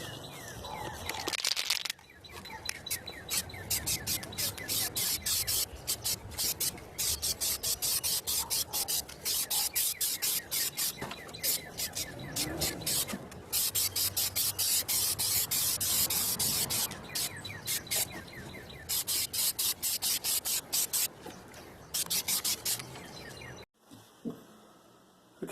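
Duplicolor aerosol spray paint applied to an acoustic guitar, long hissing bursts of spray in rapid pulsing strokes, close and loud, ending with a brief pause and a short final spurt.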